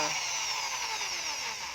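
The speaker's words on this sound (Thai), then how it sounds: "นี้เราก็จะเจาะอีกหนึ่งโล" A power drill bores a second hole into a carburetor injector cap in a workshop, a steady high-pitched whine with grinding, sliding slowly downward as the bit cuts, close and continuous with no talk.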